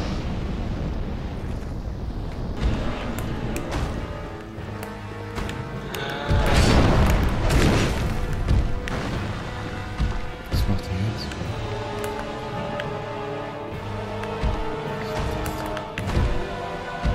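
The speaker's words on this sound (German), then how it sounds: "Ich treib die jetzt ins Feuer. Dann müssten sie ja explodieren." Barrels exploding in fire in the video game Dark Souls II: a loud, roaring burst of blast noise that swells for a couple of seconds amid ongoing game sounds, with people talking over it.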